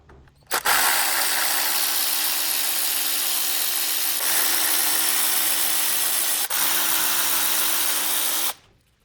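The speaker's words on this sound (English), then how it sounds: "now with the T20, we can remove the bolts that hold the wiring of the injectors to the valve cover" A power driver with a T20 bit backs out the bolts holding the injector wiring to the valve cover on a BMW M57 diesel engine, a steady loud whirring drone running about eight seconds with brief dips, no talking.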